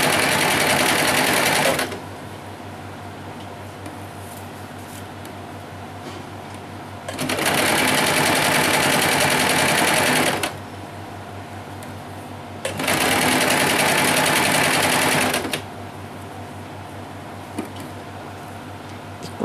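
A sewing machine stitches double-layer net fabric in three loud, steady bursts, each a few seconds long, separated by quieter pauses with a low background hum.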